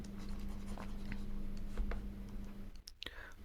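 A pen writes on paper in a quiet math lesson, its soft faint scratching strokes near and under a low electrical hum, with a voice murmuring.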